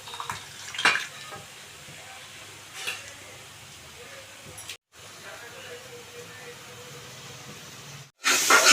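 Vegetables frying in a pan while cooking Andhra style pappucharu and gorucikkudu fry, a soft steady hiss and sizzle under occasional clinks, with a brief cutout and louder burst at the end.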